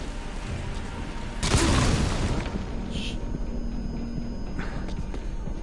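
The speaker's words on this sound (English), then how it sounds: "Heard an explosion." An explosion in a military video game, a single heavy boom that bursts out and lingers for a second over steady background ambience, followed by a couple of fainter distant thuds.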